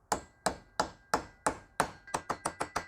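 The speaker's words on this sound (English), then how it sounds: "I'm going to take the hammer and I'm just going to slowly get it started." A hammer taps bearing caps into a slip yoke while replacing universal joints on a Toyota Land Cruiser 80 Series: about a dozen sharp metallic strikes, evenly spaced and then quickening, close and fairly quiet.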